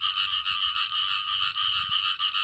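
After rain in rural Thailand, frogs and narrow-mouthed toads croak in a dense, continuous chorus: a loud, even, buzzing trill with slight pulsing and no voices over it.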